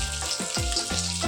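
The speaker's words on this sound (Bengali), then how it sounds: "আমার কিন্তু মাছ ভাজা কমপ্লিট হয়ে গেছে" Fish fries in a hot pan with a steady, close crackling sizzle and a few scraping stirs, with no voices.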